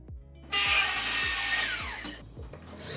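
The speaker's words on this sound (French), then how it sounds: "Nous allons maintenant découper et fixer une planche dans le fond pour renforcer le tout." A power tool cuts into a pallet wood plank, a loud sustained bright whine over a low motor hum that winds down, then rhythmic low knocks continue, close with no talk.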